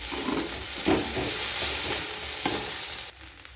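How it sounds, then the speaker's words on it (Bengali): Ginger and garlic paste frying in hot oil while being stirred in a pan, a steady close sizzle with scraping strokes throughout and no voices. "লাল করে ভাজবো না, কাঁচা ভাবটা যাতে চলে যায় সেইভাবে আমি ভেজে নেব।"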